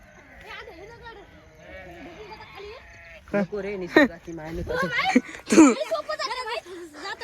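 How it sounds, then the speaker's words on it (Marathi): Sheep bleat with wavering, quavering cries, several animals calling outdoors, while people talk loudly over and between the bleats. "किती भारी मेंढ्या दिसत आहेत"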